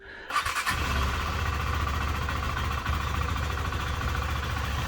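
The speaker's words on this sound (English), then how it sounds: "Start the engine and allow it to run for 30 seconds." A 2023 KTM 390 Adventure motorcycle engine cranks and catches, then settles into a steady, loud idle that runs without pause, with no talking.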